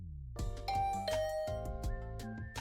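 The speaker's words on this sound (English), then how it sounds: "I rang the doorbell and Tsubasa opened the door" A doorbell rings in the video game The Hundred Line Last Defense Academy: a clear two-tone ding-dong chime, followed by a sustained electronic tone that fades over a couple of seconds, with no talking.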